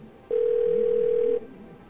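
A steady telephone dial tone sounds for about a second after a call is hung up in the game 12 Minutes, clear and alone over quiet background.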